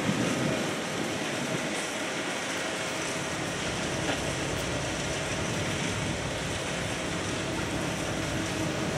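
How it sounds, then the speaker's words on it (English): A CSX freight train, likely a local or through manifest heading north, rolls past steadily with a continuous rumble and clatter of wheels on rail, heard from a station platform in Cordele, Georgia. "Not sure if this was a local or if a through manifest, but either way, definitely on the CSX line"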